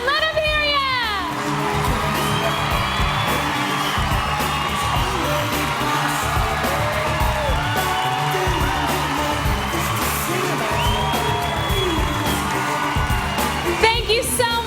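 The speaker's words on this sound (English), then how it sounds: "one final round of applause after such an exciting round of talent competition" Pageant crowd at the Miss Oklahoma event whooping, yelling and cheering steadily and loudly for the semi-finalists after the talent round, with shouts rising above a dense roar throughout.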